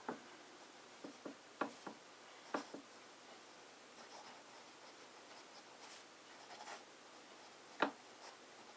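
A fountain pen with a medium nib scratches across paper writing a name, quiet close strokes with a few sharper taps and pauses in an otherwise silent room.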